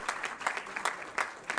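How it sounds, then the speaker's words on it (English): Brief burst of audience applause at a university research launch event, many hands clapping in an uneven rhythm at moderate volume, with individual claps standing out at close range. "Round of applause for Cape Central University of Technology"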